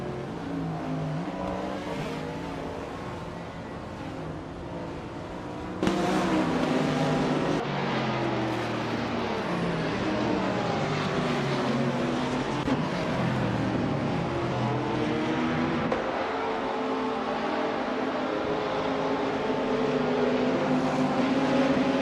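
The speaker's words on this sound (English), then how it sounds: "Bot Looks Ravenous is making a strong charge into 15th place after passing 4 cars." Race cars in a nonstop racing video game roar continuously, a dense engine drone that jumps louder around six seconds in and stays loud, with layered revving from several cars at once.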